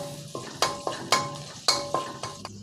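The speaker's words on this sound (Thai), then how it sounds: "พอน้ำมันร้อนก็ใส่กระเทียมสับครับ ผัดกระเทียมให้หอมครับ" Chopped garlic stir-frying in hot oil, a spatula scraping and knocking against the pan in quick irregular strokes over a soft steady sizzle, close and clear with no talk.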